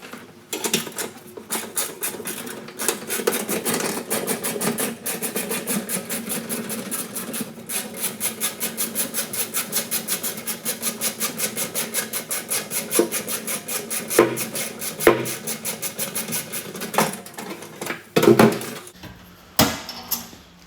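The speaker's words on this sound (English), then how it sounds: "Now I shall just grab a socket and a ratchet." A socket and ratchet work a 5/16 UNF bolt on a classic Mini rear subframe, giving a long run of rapid, even ratchet clicks close by, slowing into a few separate clanks near the end.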